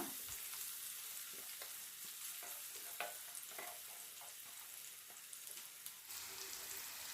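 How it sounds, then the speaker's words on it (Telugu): Onions frying in oil for a paneer masala gravy, a faint, even sizzle with soft scattered stirring clatters throughout. "ఇప్పుడు ఇదే ఆయిల్లో ఉల్లిపాయలు వేసుకుందాం"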